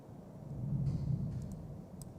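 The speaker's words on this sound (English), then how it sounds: "Still hearing a lot of thunder here in Bibb County." Low, rolling rumble of thunder during a severe spring storm in Bibb County, a steady distant roll that swells briefly near the middle, heard alone with no talk.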